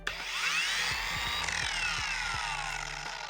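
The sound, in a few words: DIY Detail cordless polisher with 25mm stroke running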